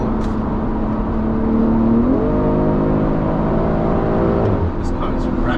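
A BMW M340i pulls hard uphill, its engine note rising steadily and loud with a gear change partway through, heard from inside the car alongside a faint voice.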